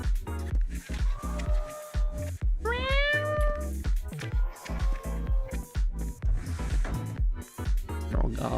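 A demon cat creature with teeth in the video game Dream BBQ lets out a rising, warbling meow over rhythmic game music and thumping sounds, with a person talking on and off around it.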